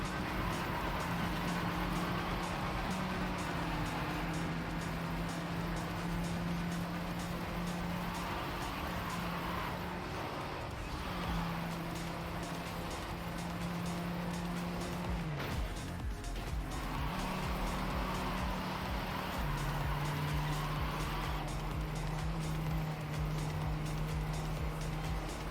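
Racing cars in the Trackmania video game drive and drift, with engines droning and shifting pitch continuously, tires squealing through slides, all steady and prominent throughout.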